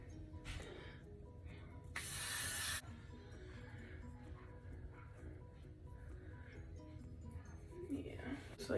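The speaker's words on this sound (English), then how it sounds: "I'm gonna re-spray my wig." A single steady burst of aerosol hairspray onto a wig lasts just under a second, loud and close, set against a quiet room with faint handling noises.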